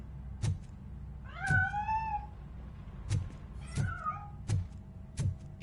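In the video game Robocop Rogue City, a cat meows twice with drawn-out, rising calls among several dull thumps, fairly close and clear with no talking.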